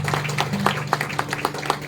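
A church congregation claps steadily together in a short burst of rhythmic applause. The clapping is fairly loud and continuous over a low hum.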